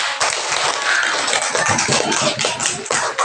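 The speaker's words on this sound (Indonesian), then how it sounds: "Kasih tepuk tangan untuk kelompok 4." A group of students claps for the fourth group in a classroom, a dense, steady burst of hand claps filling the room, close and fairly loud, with no talking.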